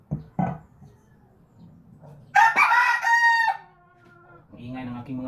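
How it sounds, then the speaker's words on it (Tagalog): Chickens nearby cluck in a couple of short bursts before a rooster lets out a loud, drawn-out crow, with more clucking following, all heard over a quiet background. "Ang ingay ng aking mga manok."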